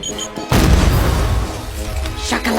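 A bomb blast blows a hole through a castle wall in an Addams Family movie scene, a sudden loud boom followed by a long rumbling roar of collapsing stone, with a voice briefly audible near the end.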